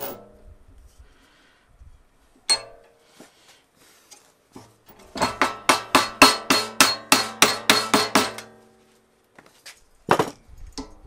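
Metal being hammered into a curve for a rat rod style custom cup holder, a few scattered taps followed by a fast run of about a dozen ringing blows, then a couple more strikes near the end.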